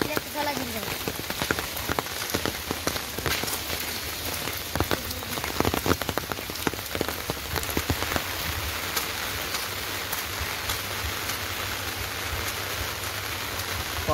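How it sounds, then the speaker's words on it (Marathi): Heavy rain pours down steadily in a village, a dense, continuous hiss of drops striking surfaces, with scattered louder splatters and no talk over it. "पाऊस फुल जोरदार पडतोय."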